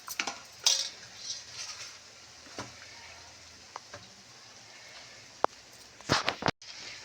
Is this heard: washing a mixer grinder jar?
yes